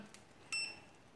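An automatic multimeter gives a single short, high electronic beep as its selector switches into diode and continuity mode, a quiet tone on its own in an otherwise still room.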